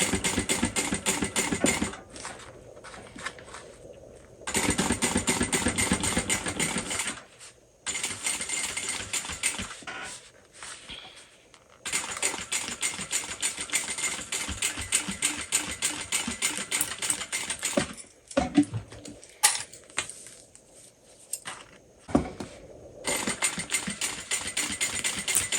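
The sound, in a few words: sewing machine stitching a crossbody bag seam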